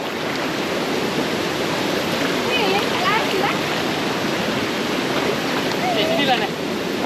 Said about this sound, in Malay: Aku dah sampai ke waterfall Sungai Chiling.